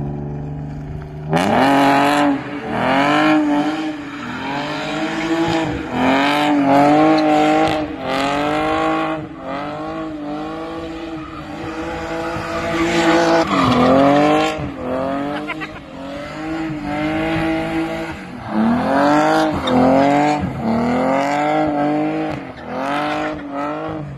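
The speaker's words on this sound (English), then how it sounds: "I'll insert my last clip of me drifting it, and I'll show you guys how bad the tires are." A BMW E46 drifting on badly worn tires, its engine revving up and down in repeated surges while the tires squeal and skid through each slide, loud and close throughout with no talking.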